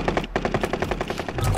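Automatic gunfire in the video game Call of Duty Warzone: rapid, evenly spaced shots rattling off in a steady unbroken burst, loud and close throughout.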